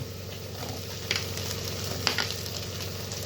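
Chopped onion, garlic and cauliflower frying in hot oil, a dense steady sizzle with a low hum beneath and two brief scraping clatters, heard up close with no speech.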